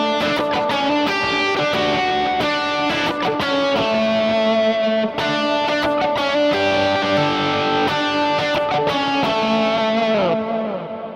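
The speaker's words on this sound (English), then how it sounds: "if I kind of dig into the strings, playing more strings than just the actual notes that I'm fretting, I get more of the percussive sound" An overdriven electric guitar plays a worship-style riff with percussive string scratches between notes, loud and close with no talking, ringing out at the end.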